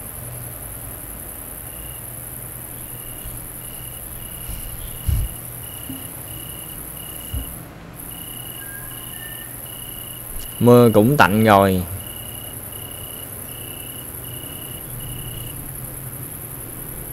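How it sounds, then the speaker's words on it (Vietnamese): Night crickets in Placid Plastic Duck Simulator chirp in a faint, evenly pulsed, high trill over a soft ambient hum, joined by a few soft knocks and a brief spoken voice near the end. "Tiếng bây giờ mình nghe là tiếng côn trùng dế màng kêu rồi"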